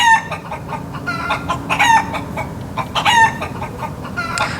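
Chicken clucking in repeated short bursts, with several close, fairly loud squawks and sharp crow-like calls over a steady low rumble.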